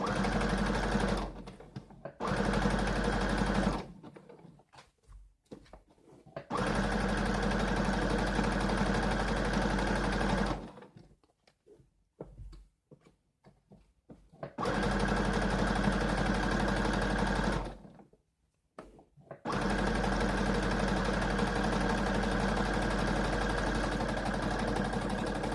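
A sewing machine runs a straight stitch down a T-shirt in several steady bursts, pausing briefly between runs, with a close, even mechanical whir.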